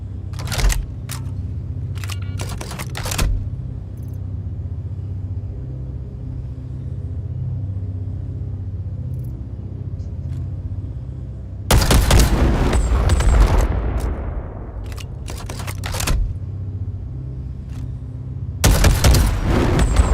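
Video game tank cannon and missile launcher fire: a few sharp cracks early, then a long loud booming blast with a falling whoosh, and another heavy boom near the end, over a steady low rumble.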